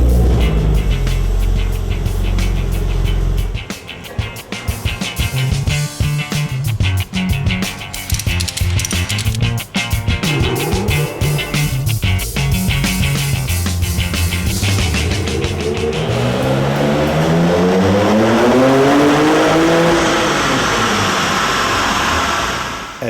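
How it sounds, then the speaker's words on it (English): A RUF-built Porsche engine runs loud and steady on a dynamometer in a test room, its drone rising and falling through changing revs, then sweeping up in long climbing pitch toward the end. "Every motor that we build comes to our dyno room and is being tested in the dynamometer."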